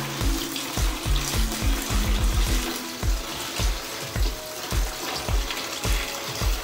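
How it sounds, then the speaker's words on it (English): Water pours into an aquarium tank being filled to the top, a continuous rushing splash with repeated low thumping, gurgling pulses at a fairly regular rhythm. "We're just gonna fill this right up to the top."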